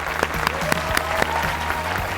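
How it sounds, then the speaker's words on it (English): An audience claps steadily, a warm burst of applause from a small crowd lasting a couple of seconds. "Please welcome him, Zach."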